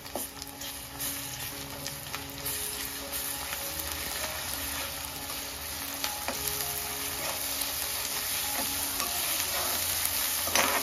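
Ginger-garlic paste and onions fry in a pan with a steady, even sizzle. Faint scattered ticks and spatters run through the hiss for the whole stretch, with no talking.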